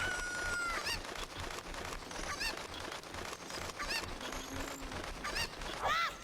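Cuccos, the chickens of the video game Ocarina of Time, give several honking, clucking calls spread across a steady game background, fairly close and clear, with no talking.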